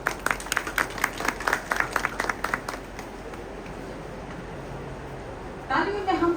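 Audience at a mental health awareness event claps for a few seconds, a moderate ragged burst of applause that fades out into murmuring room noise, with a voice starting near the end.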